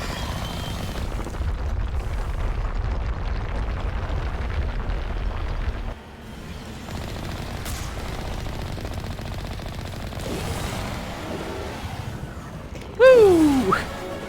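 Gunfire and explosions from the Mass Effect Legendary Edition video game make a steady, dense roar of rapid weapon fire and rumbling, briefly dropping off, then resuming before a sharp louder blast near the end.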